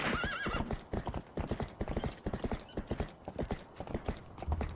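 A frightened horse in a video game whinnies at the start, then its hooves clop in a quick, steady rhythm close by, loud and clear with no talk over them.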